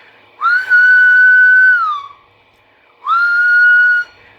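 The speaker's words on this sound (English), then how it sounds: "unless you blow into a whistle and watch what happens." A whistle is blown hard into the four-pin microphone of a Tram D201 radio, giving two loud, close, sustained shrill blasts, the first about a second and a half long and the second shorter after a brief pause.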